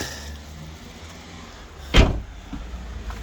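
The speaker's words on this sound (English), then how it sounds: "Let's open this car after 1 month." The door of a BMW 316i E46 that has sat unused for a month is opened, giving a single solid thunk midway through against a low, steady background rumble.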